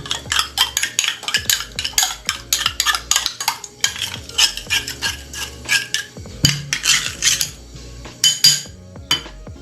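Ingredients for a steamed ube cake being mixed in a bowl with a utensil, a fast rhythmic run of scraping, tapping clinks against the bowl, close and busy, with a few heavier knocks; no talking.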